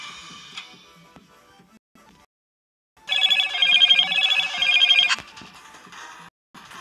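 Telephone ringtone from an aunt calling, a bright electronic warble that sounds briefly, stops for a pause, then returns louder for about two seconds before cutting off.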